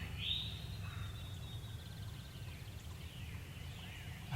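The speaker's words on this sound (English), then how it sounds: "another gobbler is gobbling at the back of this field." A wild turkey gobbler gobbles from the back of a field in Tennessee, faint and distant over steady low rumble and wind, with a few thin calls drifting through the quiet.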